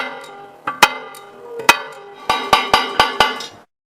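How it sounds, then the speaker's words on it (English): Sharp taps on thick glass to open a score line, a few spaced knocks followed by a quicker run of five or six evenly timed taps, close and clear with no talk. "Reduce the tapping force after opening the first section of the cut."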